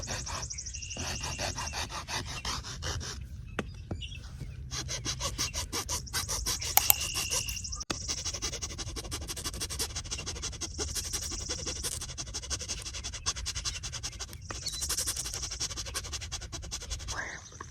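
A rasp is dragged steadily back and forth across a wooden stake driven into the ground for worm grunting, giving a continuous gritty scraping with rhythmic strokes, close and fairly loud for its whole length.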